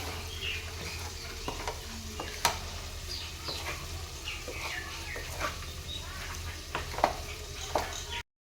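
Steady sizzling of carrots and chicken frying in a pan, with a spatula stirring and scraping at intervals and a low hum underneath.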